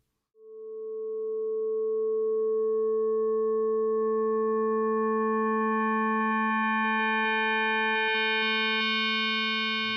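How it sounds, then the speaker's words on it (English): A synthesized FM tone with the modulation index raised to 5, a steady pitched drone whose upper sidebands gradually swell in level as the spectrum brightens over ten seconds, heard alone and clearly. "So now I'm going to raise the modulation index up to 5, and let's notice how those smaller amplitudes rise."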